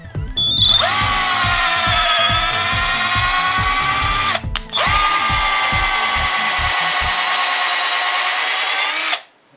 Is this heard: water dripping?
no